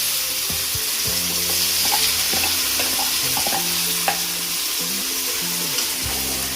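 Tomato, onion and ginger-garlic paste fry in hot oil with a constant sizzle, while a spoon stirs and scrapes against the pan in irregular strokes, close up.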